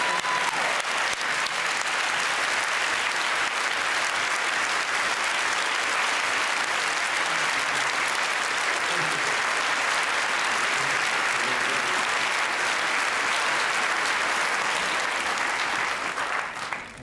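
Thunderous, sustained audience applause honouring 9/11 firefighters and Twin Tower emergency responders, a dense wall of clapping that holds steady at full loudness for a long stretch before cutting off, with no talk.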